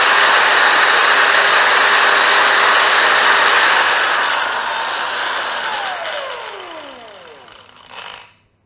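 A Blackfoot 4-inch cordless brushless angle grinder runs at a loud, steady whine, then winds down over several seconds with a falling pitch and a brief final burst near the end.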